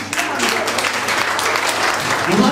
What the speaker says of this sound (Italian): accogliamo con un altro caloroso applauso la nostra simpaticissima, grande